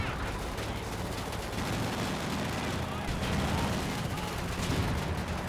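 Dense gunfire and grenade blasts from Company of Heroes 2 battle rattle continuously in a busy wartime mix, with a voice talking over the combat noise.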